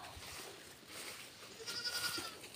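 Goats on a farm bleat faintly, with a couple of thin, wavering calls toward the end over quiet outdoor background noise.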